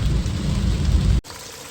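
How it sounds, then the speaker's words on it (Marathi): Heavy monsoon rain pours down on a poultry farm in a dense, loud roar, then cuts off abruptly near the end, leaving a quieter hiss. "मित्रांनो भरपूर पाऊस चालू आहे"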